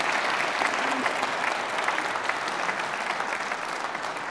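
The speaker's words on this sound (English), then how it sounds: "Give her a big round of applause." A lecture audience gives a big round of applause, a dense, loud burst of clapping that carries steadily for several seconds before easing slightly.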